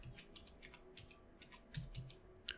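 Keystrokes on a computer keyboard entering a console command in Fallout 4, a quiet run of light clicks with uneven rhythm and a few firmer taps near the end, alone with no talk.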